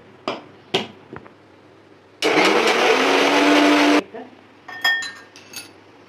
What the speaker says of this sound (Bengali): 6টা লঙ্কা, রসুন গোটা 10। এবার এটাকে পেস্ট করব।